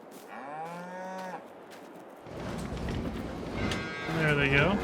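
Cows mooing inside a cow barn in Farming Simulator 22, two long drawn-out moos separated by a stretch of low rumbling barn noise, fairly close and moderately loud with no talk.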